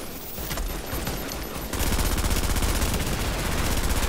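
Gunfire in a video game, rapid automatic shots rattling steadily, growing louder and denser partway through and continuing without a break.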